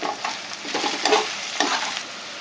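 Capsicum pieces frying in a pan for a green butter paneer dish, a steady close sizzle with brief stirring scrapes, no voices.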